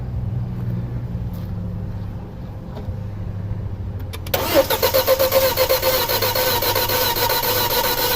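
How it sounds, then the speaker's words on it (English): A 2006 Audi A4 2.0T with a misfire is cranked over quietly for several seconds before it fires. It then settles into a loud, close, somewhat uneven idle, and no one speaks. "Let's do it one more time. I'll crank it longer."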